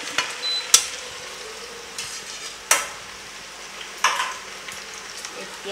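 Ginger garlic paste fries in a pan with a soft, constant sizzle. Every second or two a spoon strikes and scrapes the metal sharply as it stirs, close up.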